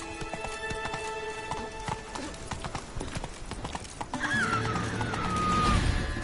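A horse trots in The Witcher 3 with rapid, close clip-clop hoofbeats, followed by a whinny near the end as the pace picks up.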